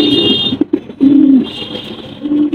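Pigeons coo in low, throaty, rolling calls at close range, with several soft repeated coos and a faint high background tone.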